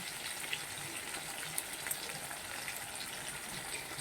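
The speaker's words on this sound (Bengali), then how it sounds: "মাছটাকে ভালো করে ভেজে তুলে নেব" Pond fish, each around six to seven hundred grams, frying in oil in a pan make a steady, close hiss and sizzle with tiny crackles scattered through it. No one talks.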